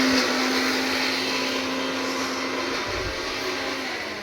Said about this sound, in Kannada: ಇಲ್ಲಿ ಯಾರಿಪ್ಪನ ಮಿಕ್ಸಿ ಹಾಕಾಕತ್ಲ ರೀ